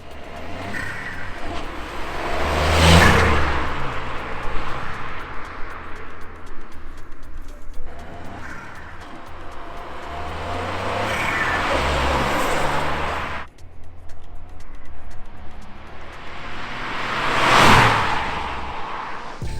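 A VW Up GTI fitted with a Racingline intake and turbo elbow makes three passing flybys outdoors, each swelling from distant to loud and fading away, with faint birdsong between.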